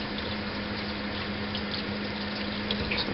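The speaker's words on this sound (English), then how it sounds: "So we turn the water on. I'm running into this sink right now." Water runs steadily from a tap into a sink after a garbage disposal install, a continuous broadband rush with a faint hum beneath it, heard alone.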